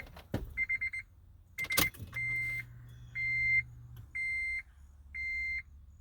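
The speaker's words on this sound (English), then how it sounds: "We'll just turn the car on and see if it works." A car starting up, with several repeated electronic chime beeps over a low steady engine hum and a few brief clunks, close and fairly quiet, no talking.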